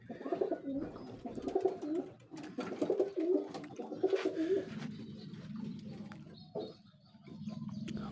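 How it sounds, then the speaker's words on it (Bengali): Pigeons cooing in a loft where many sit on eggs, soft repeated low throaty coos from several birds close by, quiet and rhythmic, with faint rustling. "অনেক সুন্দর কবুতর,"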